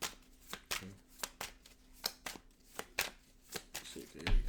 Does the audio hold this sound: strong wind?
no